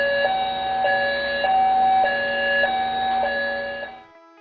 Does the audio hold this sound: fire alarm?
yes